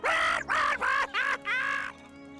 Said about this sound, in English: You've been making a racket with your seagulls on his roof.